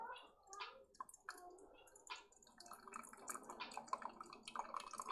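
Faint trickling and dripping of tea poured from a tiny Yixing teapot with a small spout during a gong fu brewing session, a thin, uneven splashing stream with little drips.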